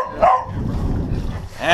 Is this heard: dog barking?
yes